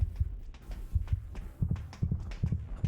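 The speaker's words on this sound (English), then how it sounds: "the heartbeat sound gets faster when you get closer compared to further away" Video game heartbeat sound: a steady series of deep, thumping double beats repeating about twice a second, close and fairly loud with no talk over it.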